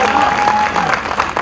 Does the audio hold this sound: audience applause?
yes